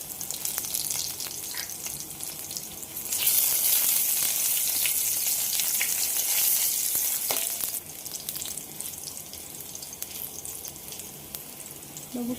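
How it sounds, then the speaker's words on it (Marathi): Crushed garlic, bay leaves and cloves frying in oil in a pan as the base for a Malvani chicken curry, a steady bright sizzle that swells louder midway, then settles, with occasional stirring clicks and no talk. "बघू शकता इथे आता लसूण चांगली ब्राऊन झालेली आहे."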